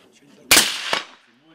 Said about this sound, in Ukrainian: Специфічне попадання металу в метал.